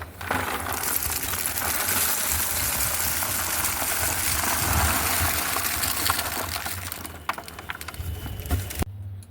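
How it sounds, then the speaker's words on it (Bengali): Charcoal pours from a basin into a cement water filter tank, producing a loud, continuous rattling gush of pieces tumbling close by for about nine seconds before it stops abruptly. "আরেক গামলা এখনও আছে চারকোল ঢেলে দাও"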